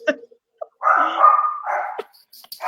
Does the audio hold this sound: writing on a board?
no